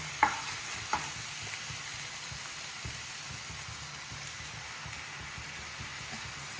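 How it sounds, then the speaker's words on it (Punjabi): Tomatoes going into masala frying in oil: a soft, steady sizzle with a couple of sharp clinks or stirring knocks near the start, then a quieter continuous fry. "ਹੁਣ ਆਪਾਂ ਇਹਦੇ ਵਿੱਚ ਪਾਵਾਂਗੇ ਟਮਾਟਰ"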